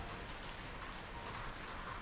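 Steady rain falls and patters on surfaces, a continuous even hiss of raindrops close by with no voices.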